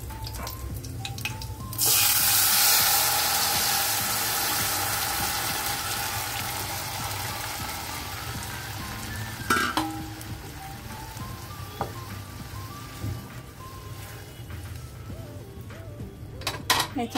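Tomato puree hits hot oil tempered with curry leaves and asafoetida for tomato saar, bursting into a loud, hissing sizzle that slowly settles, followed by occasional clinks of a spoon against the pan.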